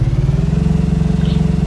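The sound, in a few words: boat engine in a zombie apocalypse video game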